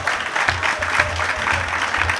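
Audience applause at a ceremony in Paris, a dense steady wash of many hands clapping, fairly loud and continuous throughout with no talking.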